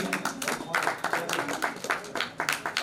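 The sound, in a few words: audience applause during an honouring ceremony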